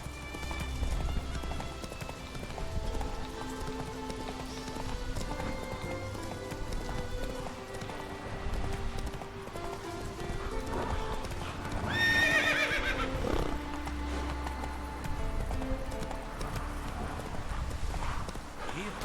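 Geralt's horse Roach in The Witcher 3 video game clip-clops at a gallop with a loud neigh partway through, over a steady musical score and in-game voices talking.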